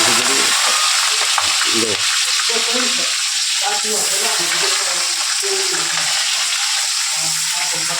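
Curry leaves sizzle loudly in hot oil while tempering vaghareli khichdi, a constant bright frying hiss with scraping stir clatter; a voice speaks briefly over it.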